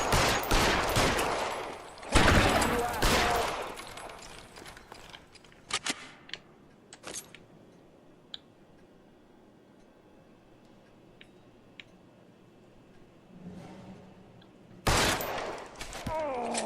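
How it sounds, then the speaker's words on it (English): Gunfire in the crime video game L.A. Noire: loud bursts of rapid shots crack out at the start, sharp isolated pops follow through a quieter middle, and another heavy volley closes the sequence. "Suppressive fire."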